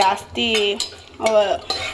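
Cashews in ghee are stirred in a pan, with a metal spoon clinking and scraping against it in a few distinct bursts and little audible sizzle.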